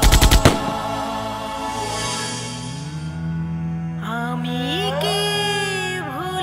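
A rapid burst of gunfire, evoking the shooting at the 21 February 1952 language-movement procession, crackles loudly at the start and then gives way to sustained musical tones.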